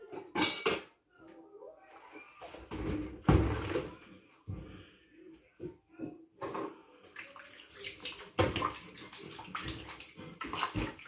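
Running water from a tap while dishes are washed, splashing in uneven bursts with clinks of plates and cutlery, fairly quiet and close.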